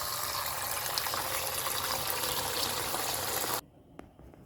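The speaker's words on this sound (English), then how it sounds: "So there's a pot, a teapot. Put some water now." Water pours steadily into a teapot for a few seconds, then stops abruptly, leaving near silence broken by a faint knock.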